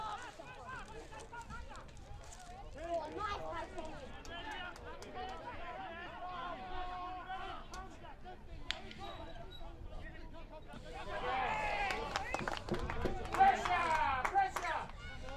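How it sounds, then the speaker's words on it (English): A crowd of families at a rugby league reserve-grade match between Orara Axemen and South Grafton Rebels gives off steady chatter and babble that swells into louder cheering and calls toward the end. "The crowd is certainly starting to build."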